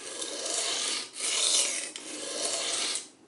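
A thin, low-angle knife edge is stroked across a sharpening stone on an Apex Edge Pro clone, making three smooth rasping passes, close and continuous, with brief breaks between strokes.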